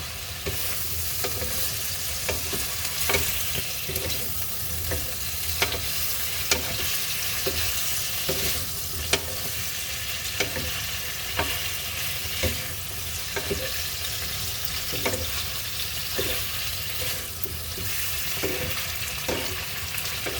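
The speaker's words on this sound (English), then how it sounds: "So I'm going to mix this around a little bit." Bitter melon and scrambled eggs being stirred in a frying pan, a soft steady sizzle broken by regular scraping strokes of the utensil against the pan, fairly quiet and with no voices.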